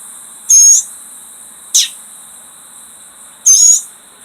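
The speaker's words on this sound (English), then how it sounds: "Birds right here" Small pet birds give three sharp, bright chirps spaced a second or more apart, close by and fairly loud over a quiet, faintly hissing room with no talking.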